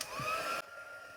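A heat tool melts white embossing powder for card making, blowing a steady close whir for just over half a second before switching off into near silence.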